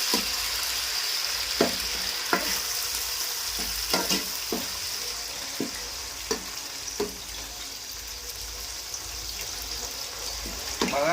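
Ginger paste fries in hot oil for a home-cooked chicken kurma, giving a steady close sizzle broken by a run of sharp scraping and stirring knocks from a spoon in the pan.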